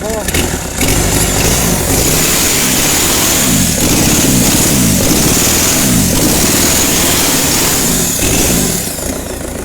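An Isuzu truck engine, freshly rebuilt, runs loud and close, revving up and down in several rising and falling sweeps before settling, with a steady noisy roar throughout.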